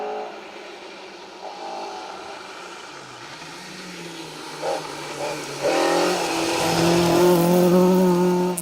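A Ford Escort Mark II rally car engine growls nearby on a rally stage, rising in pitch and volume as it accelerates past, revving hard toward the end.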